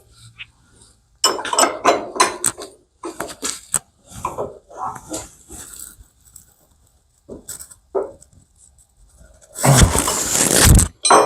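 A wrench works apart a Rolls Royce Silver Shadow II brake pump in irregular bursts of close metallic clanks, rattles and scrapes, ending in a loud, sustained grinding rattle.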